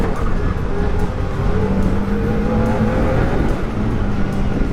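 A Can-Am Maverick R side-by-side with an automatic downshifting transmission runs close by, its engine holding a loud, steady, throaty drone with slight rises and dips throughout and no voices.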